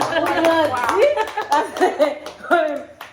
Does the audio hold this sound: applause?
yes